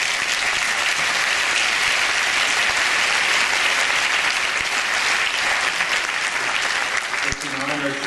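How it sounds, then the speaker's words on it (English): Loud, sustained applause from a large audience at a doctoral graduation ceremony for new PhD graduates, a thick unbroken wash of clapping that holds steady, with a faint voice emerging near the end. "So can we give an applause to all of you?"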